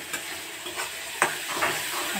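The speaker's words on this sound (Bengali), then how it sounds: "মশলাটা আমি কষিয়ে নেব।" Spices and green chillies sautéing in a pan, a soft steady sizzle broken by several clear scraping stirs of a utensil, close and fairly quiet, with no talk.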